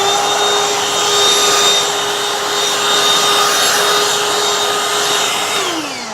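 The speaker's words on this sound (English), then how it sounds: "So I'm going to vacuum this up, and I'm going to show you my trick." A Black & Decker Dustbuster handheld vacuum runs close and loud, sucking up fabric fluff with a steady whining roar and a high tonal hum, then the pitch starts dropping as it powers down at the end.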